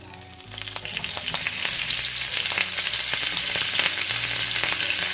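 Cabbage frying in rendered bacon juices in a pan, a steady loud sizzle with scattered crackles and pops, close up and continuous, with no talking.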